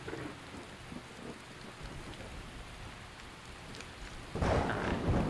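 A lightning storm in Skyrim, steady close rain patter with low rumbling thunder that swells into a louder, fuller crash near the end.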